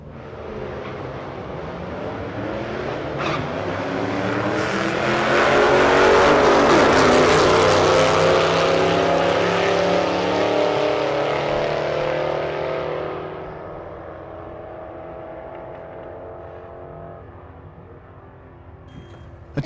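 Drag racing cars, one a 2006 Mustang, make a pass: engine roar swells as they launch and pass, peaking loud for several seconds before fading into the distance, with no voices over it.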